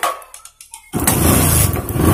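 A Bajaj Discover 100cc motorcycle with a weak battery and slipping kick-start: a few quick kick or cranking strokes, then the engine catches and settles into a loud, steady idle close by.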